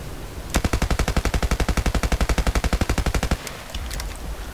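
A single long full-auto burst from a close-quarters weapon in Battlefield Play4Free, about thirty rapid, evenly spaced loud shots lasting roughly three seconds, then quiet.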